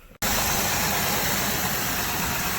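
A car engine idles smoothly after its throttle cable is taken off a bracket to ease tension on the throttle body plate, a steady, close, even rumble that starts abruptly after a brief quiet moment and holds without revving.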